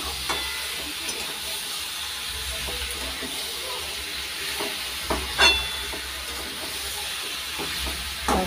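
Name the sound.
stirring meat while cooking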